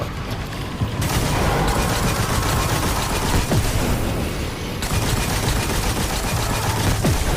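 Enemy gunfire in the video game Destiny 2, dense continuous rapid shots and booms filling the whole stretch at high loudness, with brief drops in the crackle.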